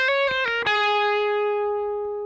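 An electric guitar solo lick with distortion: a quick run of picked, hammered-on and pulled-off notes that settles on one sustained note ringing out and slowly fading.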